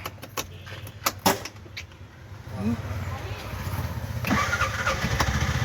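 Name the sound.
Bajaj CNG auto rickshaw engine starting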